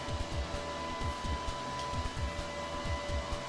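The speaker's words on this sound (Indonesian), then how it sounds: "Angin kipas ini kencang juga ya." The cooling fan of a Daiden CUT 45 plasma cutter blows with a steady whooshing roar and a faint constant whine, loud and close, with a subtle pulsing flutter underneath.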